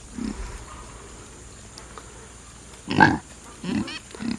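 Pigs on a barnyard farm squeal and grunt while waiting to be fed, with a loud burst around the middle and a few shorter squeals after it over faint background noise.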